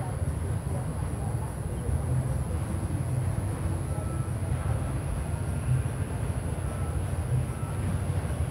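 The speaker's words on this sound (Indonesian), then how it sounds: "itu dia, kereta apinya sudah mulai muncul" A steady low rumble of the KA Pasundan train drawing closer through the Cirahong valley, continuous and fairly loud, with a faint high whine above it and no clear talk.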